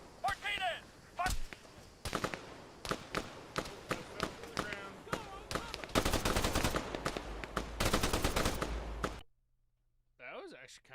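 Sharp gunshots and rapid automatic bursts ring out from soldiers in an Arma 3 firefight, loud, close and irregular, with a voice calling out over parts and a quiet pause near the end.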